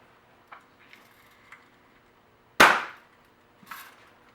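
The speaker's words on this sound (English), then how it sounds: "Shooting my dad's Red Ryder BB gun from the 1950s." A 1950s Red Ryder BB gun, stiffer to cock than newer ones, fired once: a few soft clicks of cocking, then a single sharp crack with a short tail, followed by a lighter click, close and alone.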